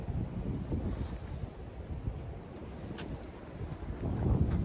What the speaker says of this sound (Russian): Погода начинает портиться, задувает ветер